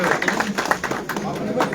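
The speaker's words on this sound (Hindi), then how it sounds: "इसको तो तालियां दो" An audience claps in a scattered burst at an awards ceremony, individual hand claps audible amid murmuring and voices in the hall, moderately loud and brief.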